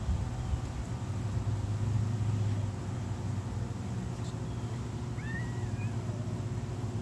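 A cat meows over steady outdoor background noise with a low hum, the calls short and not loud.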